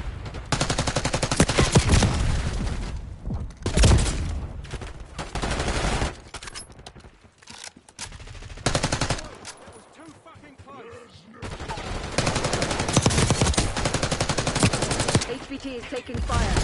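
Sustained automatic gunfire and fusillades in a Call of Duty Black Ops 6 multiplayer match on the Babylon map, loud bursts filling most of the stretch with a brief lull midway, voices calling out over the shooting.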